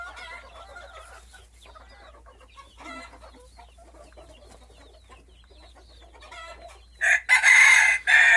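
Silkie hens cluck and murmur softly in the background, then a Silkie rooster crows loudly and close at the end.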